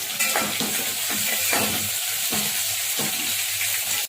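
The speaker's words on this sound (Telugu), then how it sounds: "బెండకాయలు 3 నిమిషాల పాటు వేయించుకున్నాం కదా." Okra fries in a pan while being stirred, a loud continuous sizzle up close broken by regular scraping strokes of the utensil, with no talk, cutting off abruptly at the end.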